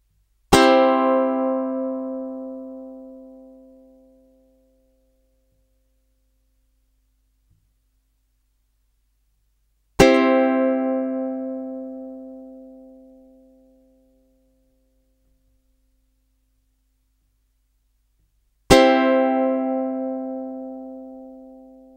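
Three separate ukulele strums played through an instrument cable into an amplifier, each ringing clearly and fading out slowly, with long silent gaps between them.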